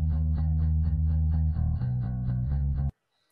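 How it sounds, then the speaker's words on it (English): An isolated bass track, the ground truth stem from a music source separation example, with a fairly quiet low, sustained line of steady repeated notes that stops abruptly after about three seconds. "The ground truth bass of a sample sounds like this."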